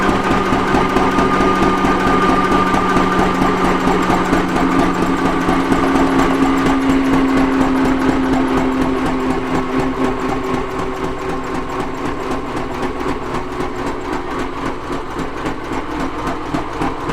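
Vintage Witte single-cylinder engine running steadily nearby, a continuous mechanical chugging with even rapid beats and a steady tonal hum throughout, alone without voices.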